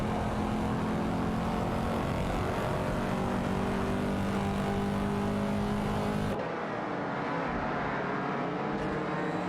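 Race cars in a simulated race: a dense, continuous engine roar with layered revving tones that holds steady and loud, then drops suddenly to a thinner, quieter drone near the end.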